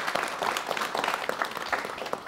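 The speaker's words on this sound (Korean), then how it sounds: "여러분 박수로 맞이해 주시면 대단히 고맙겠습니다." A studio audience on a 1989 KBS television talk show claps to welcome a guest, a short burst of steady, fairly faint applause from a modest crowd.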